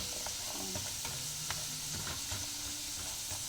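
Jackfruit seeds frying in a pan give off a steady, dense sizzle, with occasional light clinks and scrapes from stirring.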